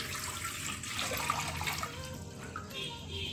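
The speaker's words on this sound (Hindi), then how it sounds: "तो अब हम एक पतीला ले लेंगे और इसमें हमें पानी डालना है।" Water pours into a cooking pot in a home kitchen, a steady splashing gush that runs for a few seconds and then thins out toward the end.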